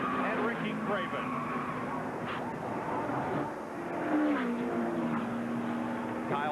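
Race cars roar around the track during a multi-car chain-reaction wreck at the 1998 NASCAR Gatorade Twin 125s, a steady dense engine drone under continuous commentary.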